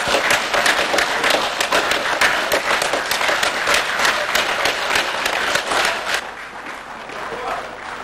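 Sustained applause fills the Senate plenary session of the DRC, with dense, steady clapping from many hands that thins toward the end as voices murmur beneath it.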